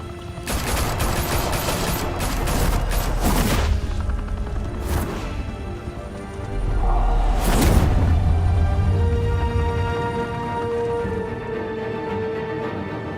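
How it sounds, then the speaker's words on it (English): Gunfire erupts in a Batman Telltale video game shootout: rapid bursts of automatic weapon fire and loud gunshots, followed by heavy crashing impacts and a deep rumbling boom, then fading electronic tones. "Open fire!"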